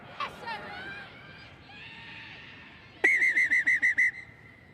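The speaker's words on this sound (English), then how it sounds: "The referee just blows his whistle as we start to get a little bit close to the players with cramp." A referee's whistle at an under-18 girls' rugby cup final on a heavy pitch gives a rapid series of about seven sharp, loud, shrill pips, following crowd chatter and other whistling in the background.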